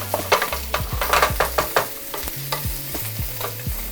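Roux being stirred and cooked in a pan for braised lamb shanks, with a repeated scraping stir over a soft sizzle and occasional clicks of utensil against the pan, close and continuous.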